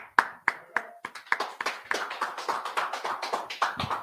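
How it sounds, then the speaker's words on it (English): A small audience at an evening history and scripture class claps, starting with a few separate sharp claps that quickly build into a quick, fairly close round of hand clapping. "Let's clap it up real quick."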